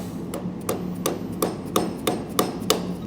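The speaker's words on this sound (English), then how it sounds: "I have to tap it in the race a smidge" A brass punch taps a ball bearing into its race while rebuilding an RCV axle, giving eight or nine sharp, evenly spaced metallic strikes close up.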